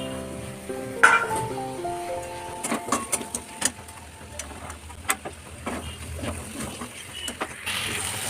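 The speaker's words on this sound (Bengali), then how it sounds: "এখানে আমি ভাজা সবজিগুলো দিয়ে একটু ভালোভাবে নাড়াচাড়া করি।" Fried vegetables are stirred in a pan, with a soft sizzle under a run of scraping clicks and taps from the spatula, fairly quiet and close.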